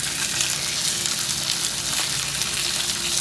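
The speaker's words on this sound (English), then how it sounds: "I'm sure it's a little loud with the frying sounds." Dry-brined chicken breasts fry in a pan with a loud, continuous, close sizzle and crackle, steady from start to finish, with no voices.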